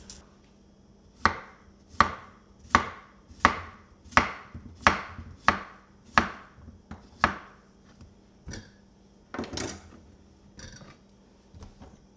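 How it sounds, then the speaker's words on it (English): A knife slices peeled potatoes into half-inch slices, cutting about ten times in a steady, evenly spaced rhythm. Each sharp chop is close and crisp in a quiet room. "Next thing we're going to do is slice these potatoes into 1/2 inch"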